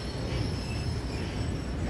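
Train rolling along the track in the Hello Neighbor video game, a steady rumbling rail noise with a faint high whine, constant and fairly near for the whole stretch, no talking.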